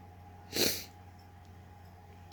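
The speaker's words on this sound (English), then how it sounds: "One sneeze and it just makes my nose run for the rest of the day." A single sharp sneeze bursts out near the mic, brief and breathy, followed by quiet room tone.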